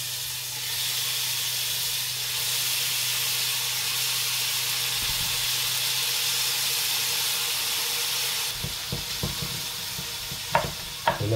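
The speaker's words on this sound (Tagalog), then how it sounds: "Dito ko lutuin yung aking prawn sa butter." Prawns sizzling in butter in a pan for creamy prawn pasta, a steady close frying hiss that runs unbroken, followed by a few clinks and stirring knocks near the end.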